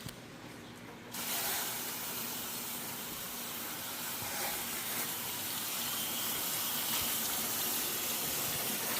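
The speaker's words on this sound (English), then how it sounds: "Now, let's go get a water hose and turn the water hose on." A garden water hose runs into a mini split air conditioner cleaning bag, starting abruptly after a brief quiet moment and then holding a steady, loud hissing spray of water.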